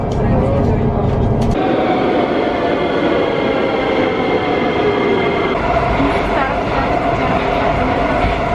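Loud, sustained rumble of a metro train running, with wheel noise and a shift in tone partway through as it moves along, a voice briefly heard over it.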